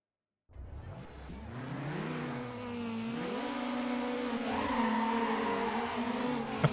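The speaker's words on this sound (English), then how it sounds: "Of course, the GTI outpulls me off the line." A Volkswagen GTI and a Honda S2000 race in Need for Speed Underground, with engines revving up from a standing start and climbing through gear shifts, loud and continuous, with a faint tire squeal.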